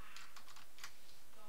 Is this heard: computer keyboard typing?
yes